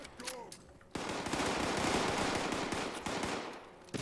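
Rapid automatic gunfire bursts in the video game Fallout 76, a dense, loud stretch of rattling shots after a brief quieter opening, with a few separate shots and clanks around it.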